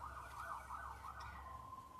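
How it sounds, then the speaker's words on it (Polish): An ambulance siren wails faintly in the background, its rising and falling tone sweeping steadily behind a low room hum before settling into a flatter held note, with no talking. "Karetki w tle bardzo mnie lubią."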